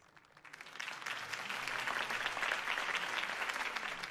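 Crowd applause at a campaign rally for Harvey Dent in the Batman Telltale Series video game, a dense clapping wash that swells in over the first second and then holds steady and fairly loud.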